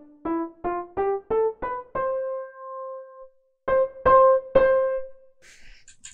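A synthesized acoustic piano tone struck as a run of six quick, stepwise-rising notes, the last one held long, then three more hits after a pause. The notes are loud, close and alone, with a brief noisy burst at the end.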